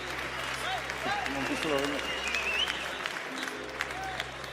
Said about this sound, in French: Je vais vous demander d'applaudir s'il vous plaît.